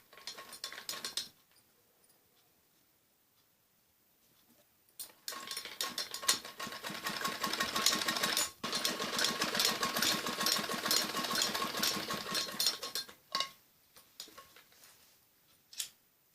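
A sewing machine stitches the neck of a kameez, rapid mechanical clatter in two bursts of several seconds each, separated by quiet pauses with faint ticking handling sounds, close by and moderately loud.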